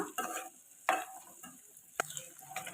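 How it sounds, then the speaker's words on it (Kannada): Boiled eggs fry in spiced oil for egg biryani, a soft crackling sizzle broken by a few sharp spatula scrapes and taps against the pan, faint and close. "ಈಗ ಸ್ವಲ್ಪ ಒಂದು 5-6 ನಿಮಿಷ ಸ್ವಲ್ಪ ಹಂಗೆ ಫ್ರೈ ಮಾಡ್ಕೊಳ್ಳೋಣ"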